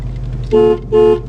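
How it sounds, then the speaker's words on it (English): A 1971 Ford Mustang Convertible sounds its horn in two short, loud toots close by, separated by a brief pause over a low idling rumble. "Horn works."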